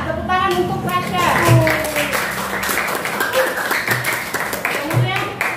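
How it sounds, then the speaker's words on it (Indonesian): Classroom applause during an Islamic religious education lesson, a short burst of clapping from pupils that rises and fades, with a teacher's voice and children's speech heard over and around it. "Tepuk tangan untuk Rasya."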